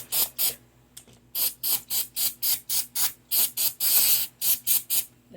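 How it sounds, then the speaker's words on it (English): Carb cleaner sprayed into the carburetor of a Toro lawn mower, heard as a rapid series of about fifteen loud, close hissing bursts with brief gaps between them and no talk. "spray down the inside of the carburetor with some carb cleaner"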